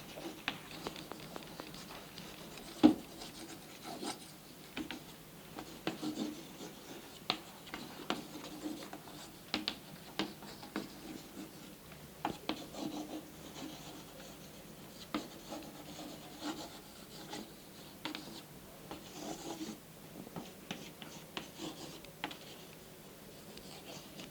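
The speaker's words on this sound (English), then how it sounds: "I'll write down a few words on the blackboard" Chalk writing words on a classroom blackboard during a lesson, faint scratchy strokes and taps coming in irregular bursts, quiet and steady with no talking.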